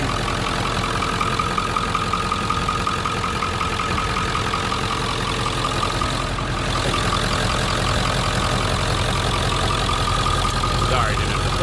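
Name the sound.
1997 Ford F-350 engine running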